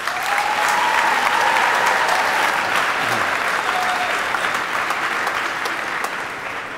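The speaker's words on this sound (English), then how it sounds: "Can we give them one more round of applause?" A school assembly audience of students and staff applauds steadily, a dense wash of many hands clapping at moderate distance that holds evenly throughout and tapers slightly at the end, with no talking over it.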